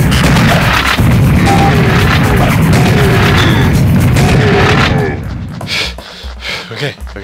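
Heavy booming blasts from a video game shotgun, continuous and loud with dense rumbling explosions for about five seconds before fading into scattered thuds.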